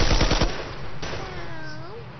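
A quick burst of several loud gunshots fired at the player in Fortnite, close and sharp, followed by a fading ringing tail.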